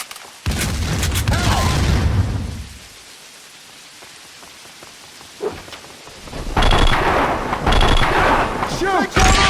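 Heavy gunfire and a grenade blast in Max Payne 2 on Xbox, loud bursts opening and closing around a quieter stretch with rumbling debris, with shouted voices in between.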